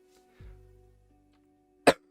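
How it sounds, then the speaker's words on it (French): A single short, sharp cough near the microphone follows a brief low hum, then quiet. "j'ai toussé"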